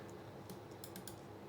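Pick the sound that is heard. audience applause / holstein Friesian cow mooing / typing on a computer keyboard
typing on a computer keyboard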